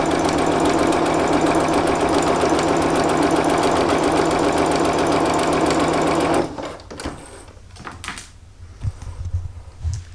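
A sewing machine stitching a line across fabric for a bag or bunting, a loud rapid continuous needle chatter for about six seconds, then stopping, followed by quiet handling knocks and rustles.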